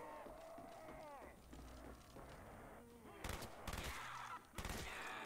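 G11 rifle gunfire in a Call of Duty zombies map (Verruckt, Shi No Numa), a few sharp bursts near the end, following game noise and someone talking.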